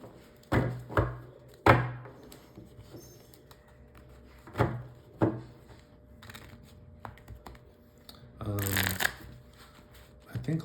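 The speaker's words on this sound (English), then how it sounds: "so just do a couple more shuffles here" A Magic: The Gathering deck being riffle-shuffled close up, with several sharp bursts of cards fanning and snapping together between quieter handling noise; a voice talks now and then in the background.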